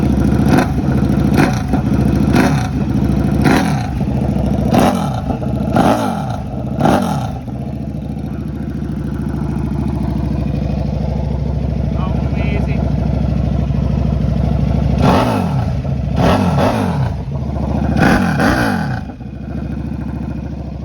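KTM RC8 sport bike on slick tyres, its engine blipped in several loud, sharp revs in two bursts, with a steadier idle rumble between them while people talk nearby.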